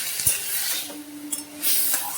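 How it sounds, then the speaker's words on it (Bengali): Vegetables frying in a pan while being stirred at home, a soft continuous sizzle with a few scraping knocks of a spoon against the pan and light metal clinks. "নেড়ে চেড়ে ভালো করে ভেজে নিই।"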